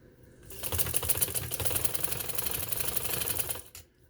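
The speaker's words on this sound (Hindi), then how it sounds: "अब मैं यहाँ से लाती हूँ और मैं इसकी स्टिचिंग करती हूँ" A sewing machine stitches lace onto a garment neckline, its needle clattering in a fast, even rhythm that starts after a brief pause, runs steadily for about three seconds and then stops, close up and without speech.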